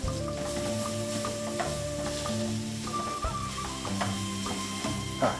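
Oil and butter for a roux get stirred in a pan, a dense sizzle mixed with scraping and clinking of a utensil against the pan, with lower rumbling tones underneath.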